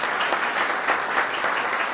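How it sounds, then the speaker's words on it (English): Steady, dense applause from a large crowd at a veterans recognition breakfast, continuous and fairly loud throughout with no pauses. "I want to give them a round of applause"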